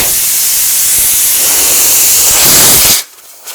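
Air rushes out of a flat tire on a 1972 Firebird after the whole valve stem pulled out. A loud, close, broadband hiss lasts about three seconds and then cuts off abruptly, with no speech.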